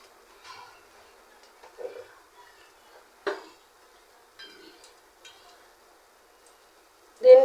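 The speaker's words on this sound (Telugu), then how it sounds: "ఒక బాండీ పెట్టుకుంటున్నాను" A kadai is set down in a home kitchen during paneer biryani prep: a few light, sparse metallic clinks and taps, then a louder clank of the pan at the end.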